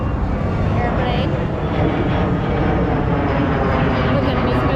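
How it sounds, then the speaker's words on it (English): An airplane flies overhead at an outdoor lawn-care and equipment expo in Louisville, Kentucky, making a steady, broad roar that fills the whole stretch with no break. Voices murmur faintly underneath. "Airplane."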